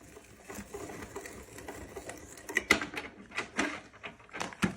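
A Sizzix Big Shot Plus die-cutting machine is cranked through, giving a whirring mechanical grind with irregular clicks and louder clunks toward the end, close and fairly quiet.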